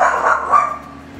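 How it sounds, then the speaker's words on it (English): A pet dog barks a few times in a home setting during a makeup swatch session, the yelps fairly close and moderately loud, fading into quieter room noise. "My dog's barking"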